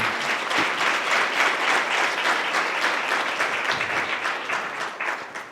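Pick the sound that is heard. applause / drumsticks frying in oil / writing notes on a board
applause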